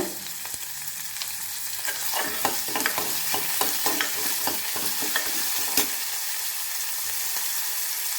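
Onions with garlic, curry leaves and coriander sautéing in a pan, a continuous sizzle broken by a run of quick stirring scrapes in the middle that die away, leaving only the even hiss.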